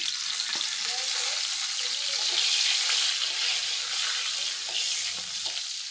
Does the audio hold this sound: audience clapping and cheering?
no